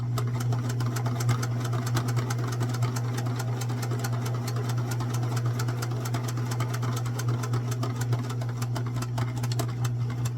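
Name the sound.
sewing machine stitching a cross-stitch pillow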